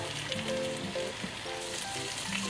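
Fish grilling over a medium flame, a steady close crackling sizzle with soft pops throughout and no voices.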